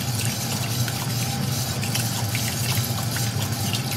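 Milk poured into a flour-and-butter roux for béchamel sauce, a steady, continuous wash of liquid pouring and splashing that holds an even level from start to finish, with no talking.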